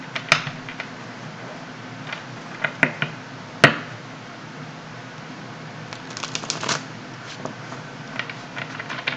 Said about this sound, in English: Just shuffling these a little bit.